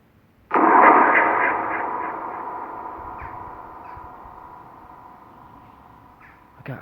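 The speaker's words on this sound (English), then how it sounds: "it sounds like a magpie, whatever it is" A bird gives a call resembling a magpie, a single loud harsh sustained cry that begins abruptly and slowly fades over several seconds, heard alone outdoors beside a cobbled road with a faint echo.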